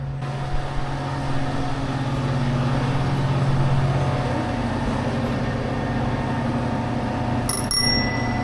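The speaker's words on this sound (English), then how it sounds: "so there's this fun bell that you ring, I guess, to get in" A bell hung at the entrance of a coffee roaster and restaurant in an alley at Lake Atitlan, Guatemala, rung with a sustained bright ring over a steady low background hum, fairly close and without speech.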